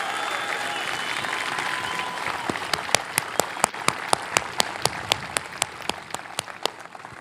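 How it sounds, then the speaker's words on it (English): An audience applauds steadily, a dense wash of clapping that settles into rhythmic, unified claps toward the end. "big round of applause, guys"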